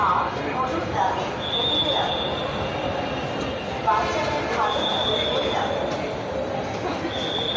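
A metro train rumbles along with a steady roar, broken by recurring high-pitched wheel squeals; faint voices may sit underneath.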